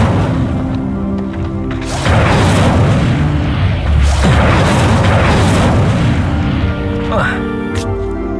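A fire spell cast in Hogwarts Legacy bursts out as a loud, roaring whoosh and boom lasting several seconds, with a crackling flare partway through and speech-like sounds mixed in.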